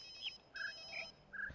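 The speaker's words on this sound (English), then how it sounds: "There's a cell phone ringing." Cell phone ringing in the video game The Witness, a short faint melodic ringtone of four quick chirping tones over quiet ambience.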